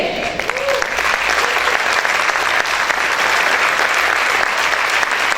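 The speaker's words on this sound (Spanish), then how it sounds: "Ese aplauso es para el Señor, déselo fuerte." Loud, sustained applause from a church congregation, a dense continuous clapping that holds steady throughout.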